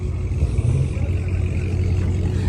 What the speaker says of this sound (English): We got a Mustang.